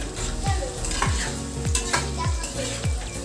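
Vegetables tossed into a pan of lightly fried garlic, ginger and chili for pulao, giving a loud continuous sizzle with repeated rhythmic scraping stirs about once a second, close up and without speech.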